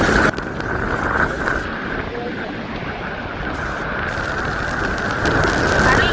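Steady heavy monsoon rain in Mumbai hisses continuously over a surface outdoors near the sea, loud and close, with faint voices beneath it.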